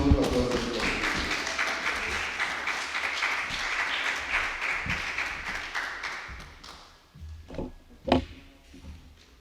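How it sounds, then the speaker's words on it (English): Audience applause at a police youth club awards ceremony in Mason Hall, Tobago, a sustained wash of clapping that fades after about six seconds into scattered claps and a few louder thumps. "Give me a round of applause."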